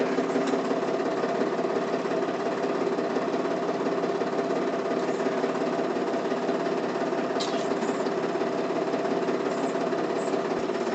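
A steady, loud tractor engine in four-wheel drive drones continuously with a rattling, vibrating hum, never letting up, with no voices.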